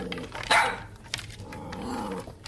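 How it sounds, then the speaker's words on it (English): A dog barks frantically in a burst of loud barks with a growling edge, close by, used as a story sound effect. "he heard the frantic barking of Yaotl coming closer and closer."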